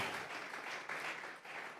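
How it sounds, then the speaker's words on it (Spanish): A church congregation claps and applauds briefly, a dense burst of many hands at moderate distance that stays fairly even throughout. "Dele fuerte esas palmas al Dios de la gloria."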